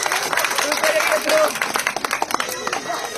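An audience claps and cheers at a children's ball game where prizes are handed out, a short burst of applause mixed with nearby voices talking over it.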